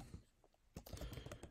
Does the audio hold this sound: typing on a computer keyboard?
yes